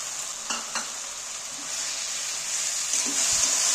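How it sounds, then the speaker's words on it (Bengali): Egg tadka with boiled dried peas and turmeric being stirred in a pan: a soft, steady sizzle of frying, with a few light scraping strokes of the spoon near the start and end. "এবার নাড়াচাড়া করে দিচ্ছি।"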